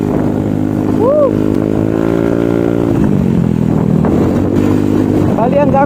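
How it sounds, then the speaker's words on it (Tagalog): An M3 motorcycle rides toward Mount Zion Pilgrim Mountain in Pangasinan, its engine droning loud and close with shifting revs, alongside wind rush and a brief excited shout. "ang gamit nating motor ngayon ay M3"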